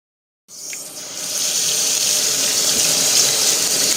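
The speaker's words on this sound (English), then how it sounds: "use half this package to fill in water into that saucepan" Tap water gushes into a saucepan, starting abruptly after a brief silence and then running as a loud, steady, close-up stream that swells slightly as the pan fills.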